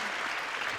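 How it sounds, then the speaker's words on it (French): Studio audience in a French TV show set applauding, a brief burst of dense clapping heard alone. "Applaudissements pour Agnès et pour le salut sacré du courage"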